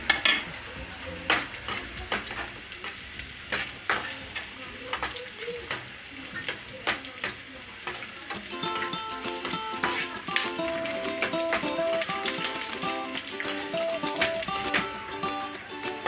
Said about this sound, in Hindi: अब हमें इसमें डालना है जीरा, 1/2 टेबल स्पून मेरा जीरा था, और 2 रेड चिली मिर्चें थी